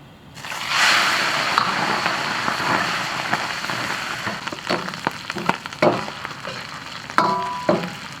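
Pressure-cooked beef lung windpipe drops into hot oil and deep-fries with a loud, steady crackling sizzle that swells quickly and keeps bubbling, with a few sharper pops and spatters near the end.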